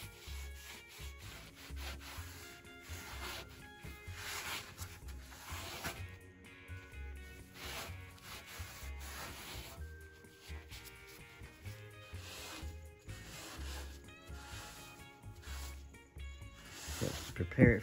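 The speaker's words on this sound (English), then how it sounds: "A little tiny wire brush to get in here." A small wire brush scrubbing metal surfaces on a Ford Model A around the gas tank area, a steady run of close rasping strokes in an uneven back-and-forth rhythm, moderately quiet.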